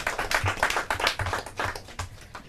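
An audience at a Portuguese quiz finals claps for contestants, a short burst of fairly close, distinct handclaps in an uneven rhythm that thins out toward the end.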